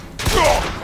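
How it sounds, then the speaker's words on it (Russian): A sudden short burst of incoming gunfire in Bioshock Infinite, sharp and loud up close, fading into a brief ringing tail with no talk. "Кто там в нас стреляет опять?"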